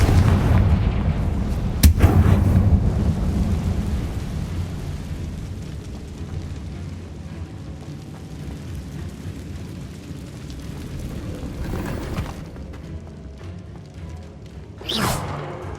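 Confringo fire spell explosions in the game Hogwarts Legacy, with a loud sharp blast near the start, a steady rumbling bed of noise, and further booming bursts later on.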